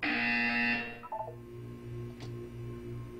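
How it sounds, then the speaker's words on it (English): A Portal 2 video game buzzer rings as a loud electronic tone that cuts off after about a second, followed by a fainter, pulsing low hum. "You will hear a buzzer."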